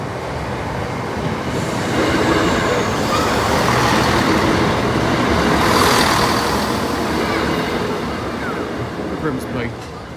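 Train rolls past the Lincoln High Street level crossing, a loud, close, sustained rumble of wheels on track that swells toward the middle and eases off, with faint voices and a high squeal near the end.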